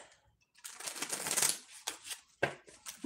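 A deck of tarot or oracle cards is shuffled by hand, a quick close-up run of papery riffling bursts with brief pauses between them.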